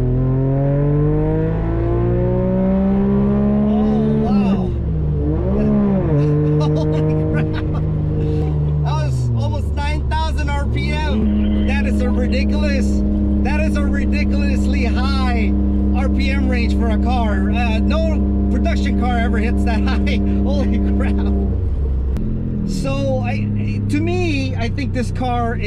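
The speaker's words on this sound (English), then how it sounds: "Let's see how high it revs." A 1991 Suzuki Cappuccino kei car engine runs loud and steady, with rising and falling engine pitch as it revs high, under ongoing talk from people inside.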